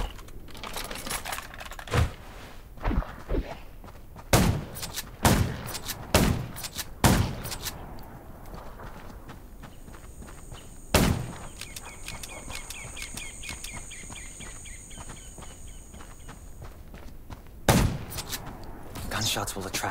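Gunshots ring out at zombies in the mobile shooter Undawn, sharp single cracks spaced irregularly, several close together early on and a few later, over a quiet game ambience with occasional speech.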